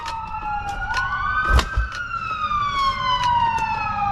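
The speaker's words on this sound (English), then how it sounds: "Never mind, it's an ambulance." An ambulance siren wails as it passes on the road, a loud rising and falling tone sweeping up and down over a few seconds, with faint traffic rumble beneath.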